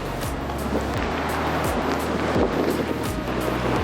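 Strong gale wind batters an action camera's microphone outdoors on rough terrain, a loud continuous roaring rumble with buffeting gusts and no talking.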